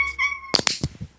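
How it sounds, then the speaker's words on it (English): Bango the house cat gives a short meow in a home hallway, followed by a few soft thumps, with brief background sounds before it and no speech. "Bango's just meowing in the hallway."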